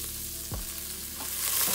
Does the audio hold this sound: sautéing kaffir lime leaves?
yes